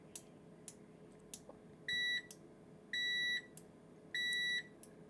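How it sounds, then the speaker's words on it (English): Continuity beeper of a Mustool MT826 6000-count digital multimeter sounding three times, each a steady high electronic tone about half a second long, separated by short gaps and faint clicks of the probes. "let's just have a quick look at the continuity function, just to see how the beeper works."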